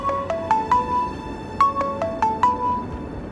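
A phone ringtone plays for an incoming call, two repeated phrases of bright rising electronic tones, clear and close, with no voices over it.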